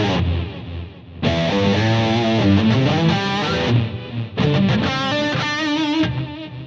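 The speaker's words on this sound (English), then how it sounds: "Now that delay is only going onto the synth sound." Boss SY-200 synth sound running through a GT-1000 Core, with delay applied only to the synth: a sustained, distorted synth line plays continuously, dips briefly, then returns with repeating echo tails.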